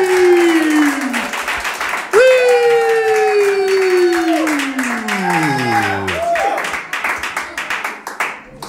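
A comedy club crowd greets a comedian with loud whoops and sliding hollers over steady clapping, then the cheering fades and leaves sharp, separate claps toward the end.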